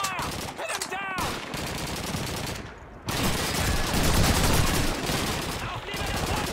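Sustained gunfire in the Call of Duty 2 World War II British campaign at a crossroads, a loud fusillade of rifle and machine-gun shots with brief gaps and faint shouted voices underneath.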